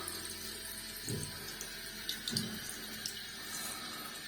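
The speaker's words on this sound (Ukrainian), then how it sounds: "Вмикаю воду і ось монетка, ви бачите, просто з неї просто все злітає." Water running from a sink tap to rinse a coin being cleaned, a soft steady stream with a few brief splashy surges, fairly quiet and alone.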